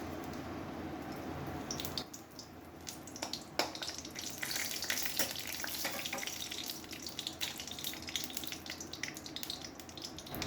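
Dried red chili and bay leaf, each torn in two, crackle in hot mustard oil in a home kitchen. The sizzle is steady and close, with sharp pops and spits scattered through and no talking.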